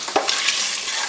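Bay leaf, cinnamon, cloves, star anise and other whole spices fry in hot oil for chicken biryani, giving a steady, loud, close crackling sizzle with a few brief stirring bursts near the start.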